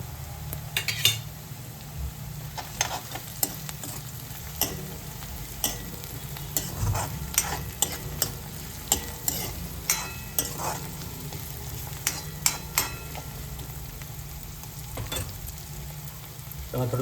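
Vegetables with capsicum for Manchow soup are stirred in a hot pan, with steady sizzling under repeated scraping and clinking of a utensil against the pan throughout.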